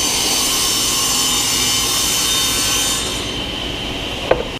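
A table saw cuts wood in a shop during a custom centre console build, a loud, close, steady whine with broad hiss that eases off toward the end, then a sharp knock.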